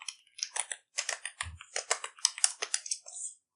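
Quick bursts of close keystrokes on a computer keyboard, clicking in uneven clusters with brief pauses between words.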